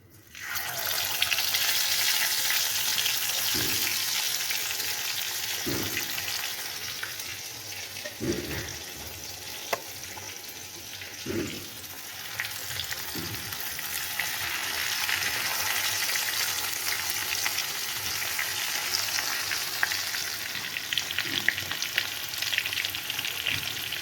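Salt-and-chili-rubbed fish fries in oil with a loud, steady sizzle. A few utensil taps and scrapes punctuate the crackle throughout.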